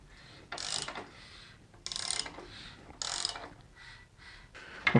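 Ratchet turning the crankshaft pulley bolt on a BMW E46 M54 engine during reassembly, a few short clicking pulls separated by pauses, close and fairly quiet, with no talk.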